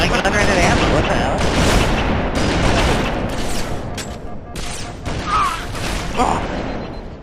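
Rapid gunfire and explosive booms from the shooter game Halo 3, played on the Construct map, with dense bursts of shots throughout and people talking over the battle.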